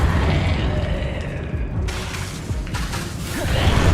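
Incendio, a fire spell in Hogwarts Legacy, casts with a whooshing burst and low rumbling boom. A brighter flare enters midway over continuing game combat noise.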